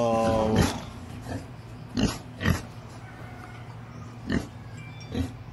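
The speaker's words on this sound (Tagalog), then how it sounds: "eto guys yung ating mga baboy" Pigs on a small farm give several short grunts and squeals at irregular intervals over a steady low hum, moderately close, with a brief voice at the start.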